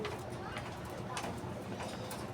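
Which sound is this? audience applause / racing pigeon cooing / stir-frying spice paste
racing pigeon cooing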